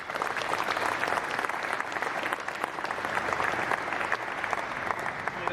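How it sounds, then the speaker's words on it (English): An audience claps together in a round of applause at a military change of command ceremony, dense steady clapping that carries on without a break. "please join me in a round of applause for everybody that worked so hard to make it just perfect"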